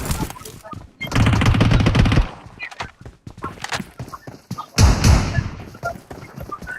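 Rapid gunfire from a multiplayer shooter video game comes in two loud bursts of automatic fire, with scattered single shots and thuds between them and excited talking throughout.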